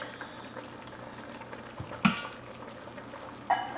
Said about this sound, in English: And then we'll simmer this for 10 to 20 minutes, and that would be ready.